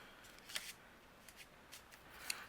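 Scissors trim paper ephemera for a collage card, giving a few faint, crisp snips at irregular intervals against a quiet room.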